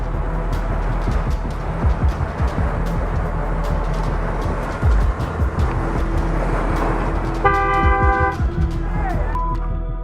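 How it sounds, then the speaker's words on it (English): A car horn honks loudly behind a cyclist stopped at a traffic signal behind a truck, blaring over steady engine rumble and road noise after the light turns green. "After the light turns green, the vehicle honks loudly for an unknown reason."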